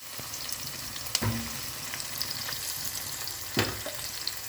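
Onions sautéing in oil with a steady low sizzle, broken by a couple of sharp utensil clinks against the pan.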